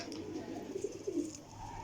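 Parwazi high-flying pigeons give a few soft, throaty coos that come in short, close bursts over a quiet background, with no clear speech.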